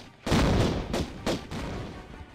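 Gunfire in the video game Tomb Raider: Unfinished Business, a burst of loud close shots with three or four sharp cracks in quick uneven succession, each trailing into a short echoing decay.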